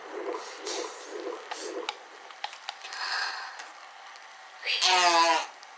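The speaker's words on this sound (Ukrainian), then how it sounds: "Це звук як в утробі." Soft, rhythmic whooshing pulses like a muffled womb heartbeat play faintly from a toy, followed by quieter clicks and a brief rustling burst.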